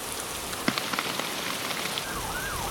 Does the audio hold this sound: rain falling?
yes